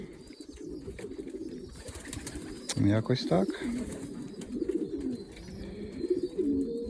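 Pigeons coo softly nearby in a pigeon loft in low, rolling murmurs, one louder burst of cooing standing out, while a person speaks briefly amid faint background noise.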